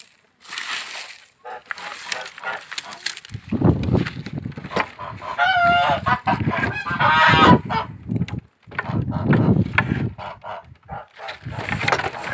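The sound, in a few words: domestic geese honking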